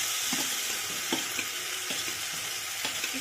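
Potatoes sizzle steadily as they fry in oil for a Bengali katla fish curry with cauliflower, with intermittent scraping taps of a spoon stirring the pan, close and continuous.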